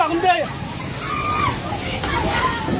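Floodwater sweeping down from China into Nepal rushes and sloshes continuously, with people shouting and babbling over the churning flow.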